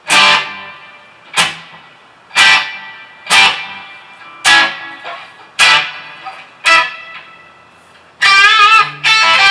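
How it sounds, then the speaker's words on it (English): An electric guitar runs through a Ranger Effects Echo X delay pedal, playing about eight evenly spaced loud plucked chords, each ringing and decaying with echoing repeats, then a denser wavering passage at the end, with no talking. "Let's bring in the delay. This is my Ranger Effects Echo X."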